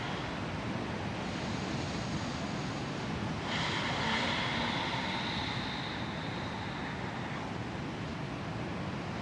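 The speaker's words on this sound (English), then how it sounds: "it is a little bit windy today, so I hope that it doesn't interfere with our practice" Steady rushing wind fills the air, a broad hiss with a gust swelling in the middle, no voices present.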